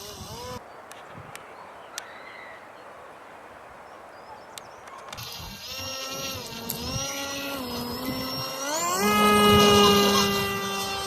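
A remote-controlled Celera 500L model aircraft, a home-built replica, takes off and flies: after a quiet stretch with a few clicks, an electric motor whines up in rising, shifting tones and grows loud, with a voice speaking over it.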